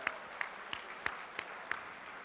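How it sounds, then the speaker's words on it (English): A seminar audience at Ko'olina Resort gives faint, sparse applause: six evenly spaced handclaps in a quiet room, with no voices. "Let me hear a round of applause if you think that sounds good."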